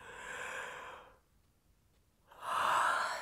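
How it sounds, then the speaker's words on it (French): A person yawning deeply, one long drawn breathy exhale, then a quiet pause and a second loud yawning breath rising at the end, close and with no talk. "Peut-être rien qu'en regardant ces bâillements que je vous montre là, ça vous donne envie de bâiller"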